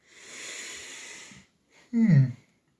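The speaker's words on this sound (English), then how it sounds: "I do apologise for the yawning" A person yawns aloud, a long breathy inhale rising into a short voiced, groaning exhale, close and fairly loud, with no speech.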